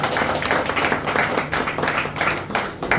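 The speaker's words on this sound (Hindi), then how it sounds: "एक बार जोरदार ताली जोरदार।" A seated audience in an air-conditioned hall claps vigorously, a thick burst of hand clapping that swells and dips over a few seconds with no talk on top.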